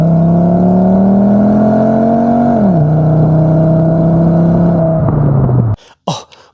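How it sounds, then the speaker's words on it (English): A loud straight-piped Volvo straight five-cylinder engine drones at steady revs, the pitch dipping and easing off before cutting out, followed by brief sharp noises. "Insert a Volvo clip here of a straight 5-cylinder sound"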